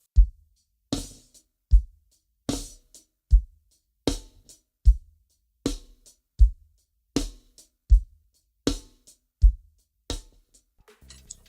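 A drum kit groove played unevenly, like a beginner drummer, is heard alone: about a dozen punchy kick and snare hits with crashy tails come at slightly irregular spacing, fairly close and clear.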